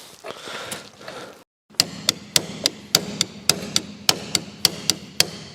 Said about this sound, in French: ce filtre-là, généralement, il finit avec un coup de tournevis